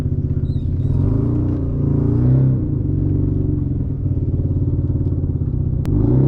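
A Mazda RX8 rolls slowly while being parked, its engine a steady, close, low rumbling burble with a faint tick near the end.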